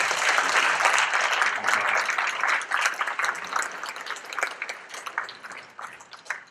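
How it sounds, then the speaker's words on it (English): Audience at the Kinnari Music Festival concert breaks into dense applause, loud at first and gradually thinning into scattered claps toward the end, with faint voices mixed in. "Big round of applause for you."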